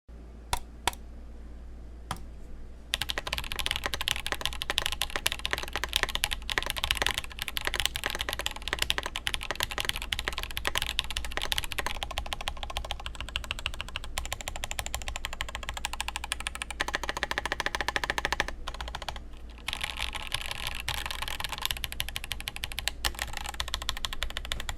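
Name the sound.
mechanical keyboard typing, clacky switches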